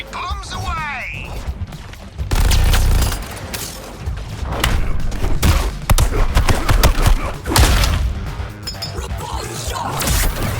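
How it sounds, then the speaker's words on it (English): Grenade tossed and exploding in the Suicide Squad: Kill the Justice League video game, heavy booming blasts and crashing impacts rolling through dense combat noise, with a character's voice barking over the chaos. "Use a grenade! Bombs away!"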